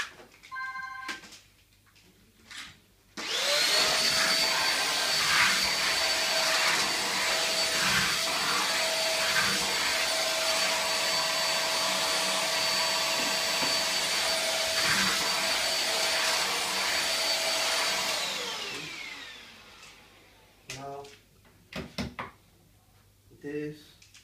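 A Euroclean Litevac vacuum cleaner switches on and runs steadily at close range with a loud, constant whine for about fifteen seconds, then winds down, with brief clicks and handling noises before and after.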